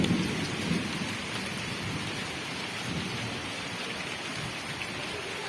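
Heavy rain pours down in a constant hiss in Sawantwadi, Konkan, with low rumbles of thunder rolling underneath, steady and enveloping.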